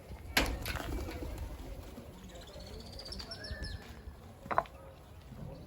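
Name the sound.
tumbler pigeons cooing during flight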